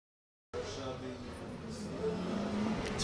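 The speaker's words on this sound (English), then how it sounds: "Listen to the roars of that car." A drift car's engine roars at the OIDC 2024 drifting competition final, a sustained loud revving drone that builds slightly toward the end, with commentary voices over it.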